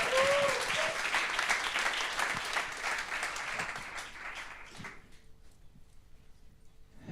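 An audience claps loudly in a steady burst of applause as a competing team comes to the stage at a circular economy pitch final, the clapping thinning and fading out after about five seconds, leaving near silence.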